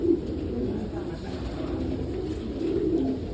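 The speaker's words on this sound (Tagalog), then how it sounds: "ito mga kalapatids, papakita naman sa atin yung champion bird" Racing pigeon, a champion bird, cooing inside a loft, with soft repeated low coos near the start and end over a steady background hum.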